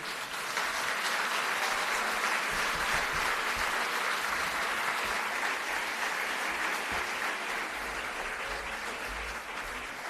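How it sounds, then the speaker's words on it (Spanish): Loud, sustained welcome applause from a large audience greeting the Chilean scientist Humberto Maturana before his lecture on education, dense even clapping with no speech over it. "pedimos un fuerte aplauso de bienvenida para él"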